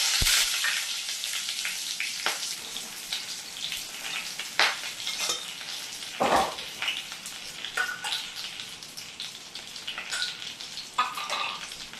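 Whole garam masala spices (cloves, cardamom, bay leaves) sizzling in hot oil as pudina rice begins, a continuous bright crackle with sharp spits and pops, close and steady, with no talk.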